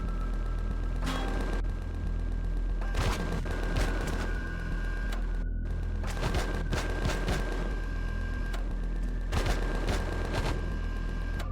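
A turret gun in the space survival game Empyrion Galactic Survival pounds away at a block in steady, repeated heavy bursts, loud and continuous with a constant mechanical hum underneath.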